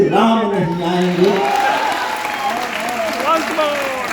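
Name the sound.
audience applause at a comedy poetry show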